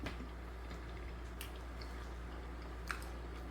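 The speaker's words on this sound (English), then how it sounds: "I'm chewing because I'm chewing the pecan" Someone chews a mouthful of caramel pecan pound cake close to the mic, with soft wet squishing and a few faint crunchy bites over a quiet, steady background.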